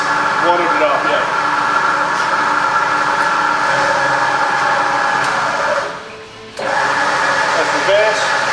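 Steady mechanical whir and hum of a rebuilt Bridgeport milling machine spindle turning at 100 RPM, constant and close, with a brief dip in level near the end before resuming.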